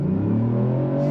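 Ford Puma ST hot SUV engine revving hard under full acceleration, a loud steady rising drone climbing in pitch throughout, alone with no talk.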